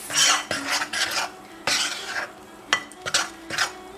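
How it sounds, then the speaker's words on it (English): Chocolate oatmeal zucchini cookie dough is stirred in a bowl, producing close, rhythmic scraping strokes with clinks of utensil against the bowl, alone without talk. "I imagine mixing it slowly just makes it an easier process."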